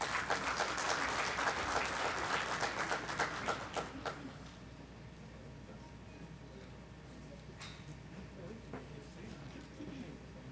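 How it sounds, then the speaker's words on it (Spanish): An audience at a conference talk applauds a speaker, a moderate wash of clapping that fades after about four seconds into quiet room tone with a few stray claps. "Un fuerte aplauso para ella"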